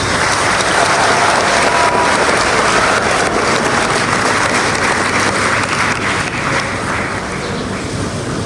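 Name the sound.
applause at school ceremony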